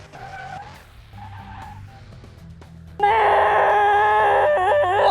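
Koenigsegg in the video game Car Mechanic Simulator, with quiet engine idling and faint tire noise, then a sudden loud sustained rev as it launches.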